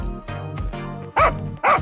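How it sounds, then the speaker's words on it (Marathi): A dog gives a few short barks and yips, the last two louder and sharper, close and alone. "कुत्रा आहे"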